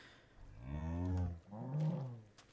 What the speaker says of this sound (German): Die Kuh.